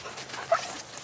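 Young hunting dog puppies yip and bark out in the field near a cottontail rabbit, a short burst of a few high yelps over steady outdoor noise, fairly close.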